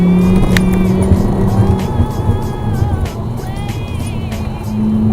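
A VW Golf Mk6 with a 2.5L engine on Cooper Zeon RS3-A tires during a solo canyon run, its engine droning loudly inside the cabin with road roar and brief tire noise as the car slides out slightly.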